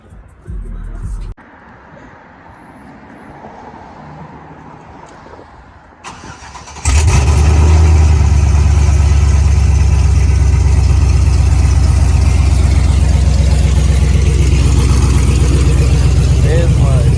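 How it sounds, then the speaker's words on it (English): A cammed 6.0 V8 in a Chevy Silverado with open longtube headers cranks and fires after a few quiet seconds, then settles into a loud, steady, close rumbling idle with no voices over it. "here goes the startup on open headers"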